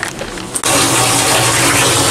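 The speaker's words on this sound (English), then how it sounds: "Sorry about the noise, guys. I am setting up a hot bath for myself." A hot bath filling in a small tub in a Gifu hotel room, the tap opening partway through, then a loud, steady rush of water pouring in with no one talking.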